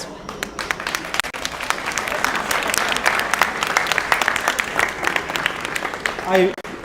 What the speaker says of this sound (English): Please give a round of applause for all these leaders.